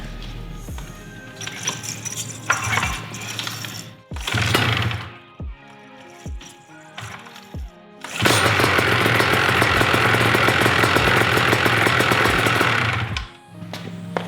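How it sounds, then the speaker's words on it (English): A small gasoline engine pull-started with the choke on: a few sharp recoil pulls and sputters, then the engine catches and runs loudly with a rough, steady roar before cutting off near the end. "I'm gonna turn the choke on, and I'm gonna give her a pull start, and we'll see how many pulls she actually takes to fire."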